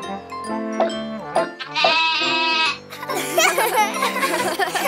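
A cartoon goat bleats in a children's animated show, with several bright, wavering calls, the longest one in the middle, alongside voices and music.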